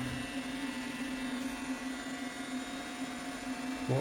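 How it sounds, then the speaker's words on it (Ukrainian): A steady whirring hum from the cooling fan of a 1000 W 12 V power inverter runs throughout, constant and close, with a slight shift in tone near the end. "Так, включився вентилятор,"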